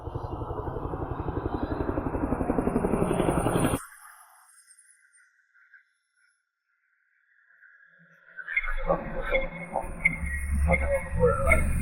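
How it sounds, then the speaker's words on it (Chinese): An approaching helicopter thumps with loud, rapid rotor chop that cuts off abruptly into near silence, followed later by a burst of mixed clatter and noise. "间谍卫星都没有发现飞来的直升机"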